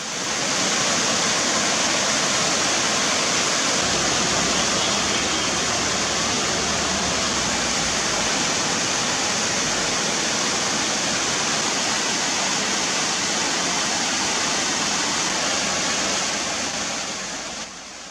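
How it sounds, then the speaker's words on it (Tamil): Velli waterfall roars after rain, a loud, dense, unbroken rush of falling water that stays steady and close for the whole stretch, with no voices. "வெள்ளி நீர்வீழ்ச்சியில் தண்ணீர் ஆர்ப்பரித்து கொட்டியது"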